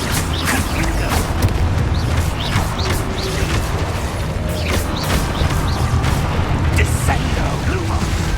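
Confringo blasting-spell explosions in the video game Hogwarts Legacy, a dense, loud, continuous barrage of booms and crackling bursts layered with game effects and occasional shouted voices.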